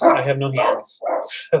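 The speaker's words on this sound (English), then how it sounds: "Sorry about the dogs." Dogs barking a few short times in the background while someone talks over them during a live sale indoors.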